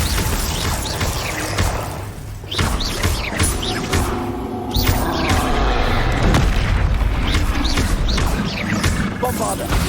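Loud spell-blast booms from the Bombarda charm in the Hogwarts Legacy video game, several heavy thuds and bursts over dense, busy game combat noise throughout, with a voice calling out beneath.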